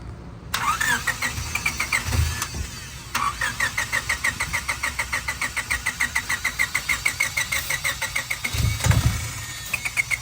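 A Honda car engine cranks repeatedly in a steady rhythmic churn, briefly catching and sputtering but not quite firing up, with a couple of pauses between attempts.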